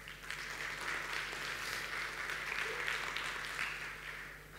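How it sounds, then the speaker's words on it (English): Quick round of applause from a conference crowd at a startup event in Istanbul, a steady wash of many hands clapping at moderate distance with no voices over it. "quick round of applause if you have a smartphone"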